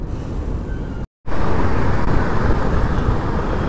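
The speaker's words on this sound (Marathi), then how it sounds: "ट्रॅफिक बघा, या असं ट्रॅफिक लागलं ना की मग जाम कंटाळा येतो गाडी चालवायला" Steady, loud road traffic noise on a highway near a toll plaza in Maharashtra heading into Kolhapur, a continuous engine rumble with a brief cut near the start and no talk.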